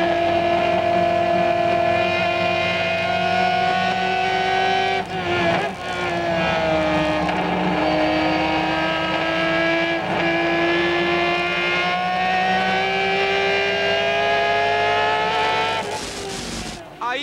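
A 1997 Turismo Carretera race car at flat-out qualifying pace at La Plata, its engine holding a loud, steady high-revving drone with brief dips at gear changes, heard under continuous race commentary.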